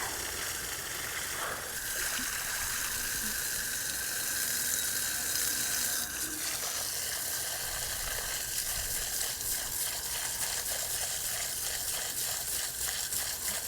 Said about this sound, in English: I blast them out with the hose in case there's any mosquito eggs in there